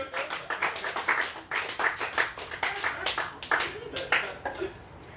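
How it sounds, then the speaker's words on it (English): An audience at a stand-up comedy show breaks into applause, a dense patter of many hands clapping at moderate distance and sustained throughout, with some crowd noise mixed in. "Give yourself a round of applause"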